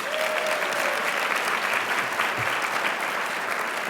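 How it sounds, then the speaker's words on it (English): Sustained applause from a large audience at an awards ceremony, thanking event sponsors; steady, dense clapping fills the whole stretch at even loudness, with no talk over it. "Give them a round of applause."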